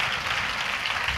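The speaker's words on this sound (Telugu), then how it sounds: "బిగ్గరగా చప్పట్లు కొడుతూ గట్టిగా గణపరచండి ప్రభుని." A church congregation claps loudly at a Sunday service: dense, steady applause fills the whole short stretch at an even, full level, with no pause.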